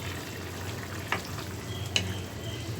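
Pointed gourd frying in a pan alongside potatoes for a prawn dish, a soft steady sizzle with a couple of brief utensil scrapes as it is stirred.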